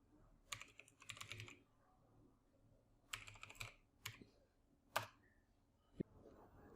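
Keys tapped on a computer keyboard while entering text in a spreadsheet: short clusters of quick clicks separated by pauses, then a few single firmer keystrokes, quiet and close with no talking.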